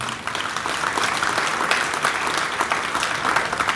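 Steady applause from an audience at a Hindu spiritual discourse in Pune for Ram Navami, a dense even patter of many hands clapping throughout, moderately loud with no talk over it.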